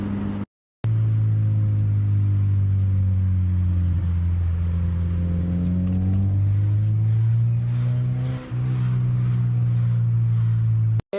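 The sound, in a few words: manual car driving and downshifting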